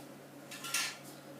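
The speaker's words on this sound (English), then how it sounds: "Okay, I put it into the oven." A metal cake tin holding a Victoria sponge-type mix slides into a farm kitchen oven, a soft brief clatter and scrape of metal on the rack, fairly faint and close.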